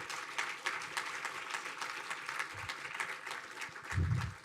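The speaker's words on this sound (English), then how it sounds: "Let's have another round of applause for all of our nominees and awardees." Faint, distant applause at a postdoctoral awards ceremony, a soft continuous patter of many hands clapping for nominees and awardees.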